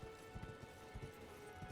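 Hooves of a horse clip-clopping in Elden Ring, a quiet run of soft, rhythmic thuds on the ground over a faint steady game ambience.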